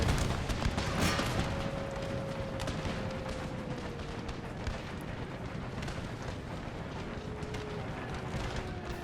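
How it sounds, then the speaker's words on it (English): Distant cannon fire in Empire: Total War booms repeatedly over a dense, roaring battle ambience, with muffled blasts and a faint whistling tone drifting through. "Oh, their cannons are actually getting some hits there."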